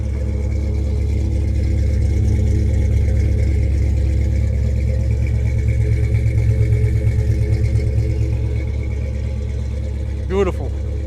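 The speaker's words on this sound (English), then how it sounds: "Listen to this motor." A 1975 Ford Bronco V8 idles steadily up close, a deep rumbling drone holding even for several seconds with a slight lope, then a brief higher rev blip near the end.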